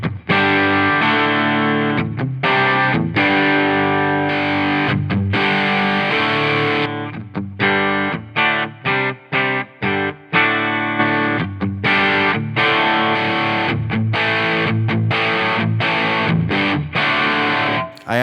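Electric guitar through a Line 6 Helix modelling the Soldano SLO-100 on its push channel, a loud crunchy overdriven riff of sustained chords broken up by quick choppy stops, with no talk.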